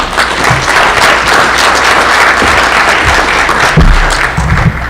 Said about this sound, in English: Let's give a round of applause for John.